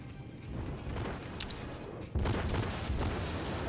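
A tier-two warship's three main guns fire a broadside in World of Warships, a sharp boom then a heavier rumbling salvo about two seconds later, loud and close over a constant low drone.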